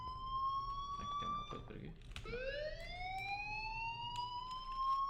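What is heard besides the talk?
fire alarm ringing in video game Life is Strange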